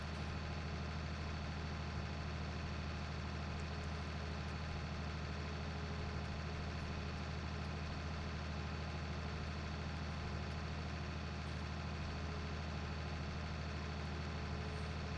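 A tractor engine running steadily in Farming Simulator 19, a constant low droning hum with a faint mechanical whine, unchanging and fairly quiet throughout.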